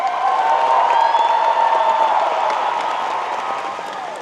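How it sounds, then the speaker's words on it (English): A big convention crowd at a Back to the Future panel at MegaCon 2024 claps and cheers, with whoops and shouts over sustained loud applause that slowly eases off. "Can we get one more big round of applause, guys? For Back to the Future!"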